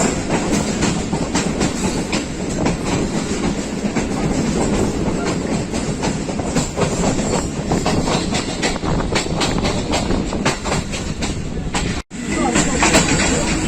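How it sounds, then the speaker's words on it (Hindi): The Allama Iqbal Express of Pakistan Railways passing slowly, heard as a continuous loud rumble with rhythmic clickety-clack of wheels over the rails and a brief break near the end. "स्लो स्पीड में काला खताई क्रॉस कर रही है नाइन अप अल्लामा इकबाल एक्सप्रेस।"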